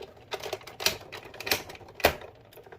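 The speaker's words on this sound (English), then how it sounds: "Now you can hear those healthy joints click." Hip joints of a DX9 Gabriel toy figure click in four distinct sharp, close ticks spaced about half a second apart, crisp and dry against a quiet background.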